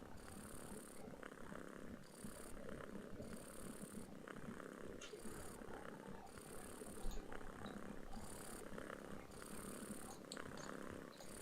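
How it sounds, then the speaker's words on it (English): A vaguely threatening cat in a Yume Nikki fan game gives a low, rumbling growl that pulses in a steady rhythm, close and continuous for about eleven seconds, quiet overall. "Vaguely threatening cat."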